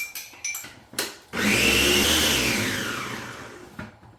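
A kitchen blender whizzes chopped tomatoes for a Fiji-style fish curry, a loud steady whir that runs for a few seconds after a few short knocks and settles as it spins down.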